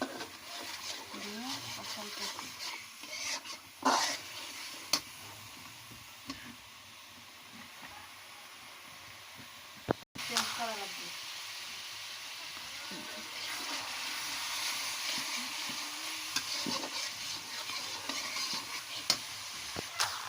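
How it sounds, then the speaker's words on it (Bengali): Turmeric, peanuts, chili, garlic and onion stir-fry in a pan, a soft steady sizzle with scraping spatula strokes, quiet and close, briefly cut off midway before resuming; faint voices come and go underneath. "কষাইতেছি হলুদ বাদাম মরিচ রসুন আর পেঁয়াজ"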